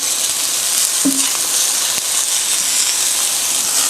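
Steady loud sizzle of Chinese home-style stir-frying in a wok as bean sprouts go in, with a brief clatter of ingredients and stirring over continuous hiss, no talking.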